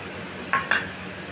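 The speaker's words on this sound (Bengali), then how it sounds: "এবার আমি আরেকটু ঢেকে দেবো" Two quick metallic clinks close together as a lid is set onto a pan of cabbage curry with potato and coconut, over a steady background hiss.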